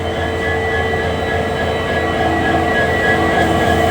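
A train waits at Bamanhat station, its engine giving a steady, loud, close hum with a constant mechanical drone and no clear movement or talk.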